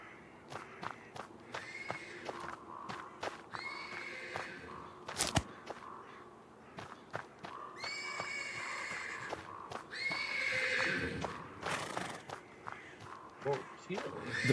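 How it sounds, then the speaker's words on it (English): A video game horse whinnies and snorts several times from stables against a quiet ambient backdrop, with occasional hoof steps and a voice speaking between the calls. "The persistent neighing of a horse can be heard from the stables."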